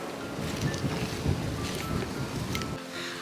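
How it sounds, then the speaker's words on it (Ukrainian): Strong wind buffets the microphone in heavy gusts, a loud, rushing roar with no other clear sounds. "Як сильно дує вітер"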